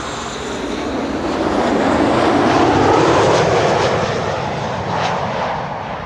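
A Tarom airliner arriving from Bucharest at Amsterdam Schiphol roars past as a continuous broadband jet rush, swelling to a peak mid-pass with a falling tone, then easing off slightly, loud and close with no voices.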